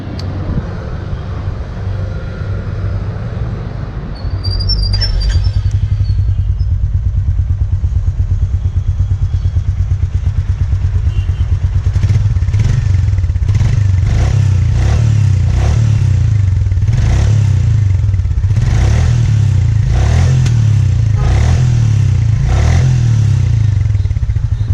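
A 2021 Royal Enfield Meteor 350 motorcycle starts and settles into a loud, steady single-cylinder idle close by, with several sharp throttle revs rising and falling later on; no one speaks.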